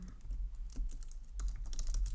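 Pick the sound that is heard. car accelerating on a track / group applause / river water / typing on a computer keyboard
typing on a computer keyboard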